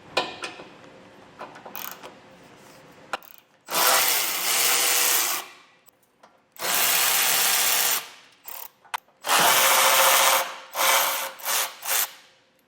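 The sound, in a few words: tool removing bumper support bolts on a 2021 Jeep Grand Cherokee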